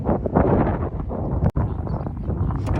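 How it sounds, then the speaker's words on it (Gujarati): Strong wind roars and buffets the microphone in loud rumbling gusts beside a creek with waves, with a brief sudden drop in the middle. "આગળ પવન બહુ છે"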